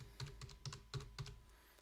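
Computer keyboard keys are pressed one by one while an authorization code is entered, five or six quiet, evenly spaced clicks in a calm room with no talking.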